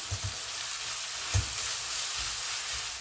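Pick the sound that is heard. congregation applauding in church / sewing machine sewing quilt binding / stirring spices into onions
stirring spices into onions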